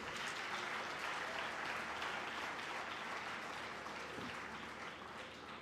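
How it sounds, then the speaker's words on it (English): An audience at an IIT Madras graduation convocation applauds steadily, a dense, even clapping that holds at moderate level throughout without a break. "Come on guys, the applause can be louder."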